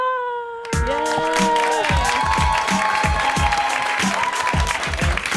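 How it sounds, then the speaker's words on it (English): An audience at a live talk show breaks into applause, with a dense run of claps mixed with whoops and high cheering voices, loud and close after a brief quiet opening. "We want to give like a round of applause to Veronica"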